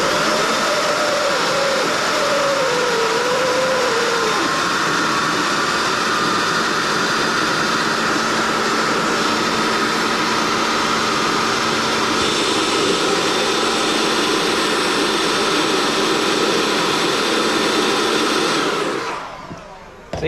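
Engine revving with a DAW Flow Max+ turbocharger spooling, wastegate closed, a steady loud broadband whine and rush that holds for about nineteen seconds, a thin rising whistle early on, then cuts off abruptly.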